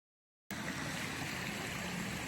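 Small creek flowing on a rainy trail, a steady close rushing babble of water that starts abruptly after a brief silence and continues evenly.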